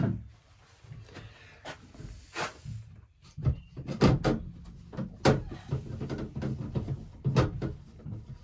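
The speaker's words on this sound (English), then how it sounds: "let's shut the door here a second." A door at a lodge is shut amid a series of clunks, knocks and rattles, several sharp close impacts spread irregularly among quieter handling noises.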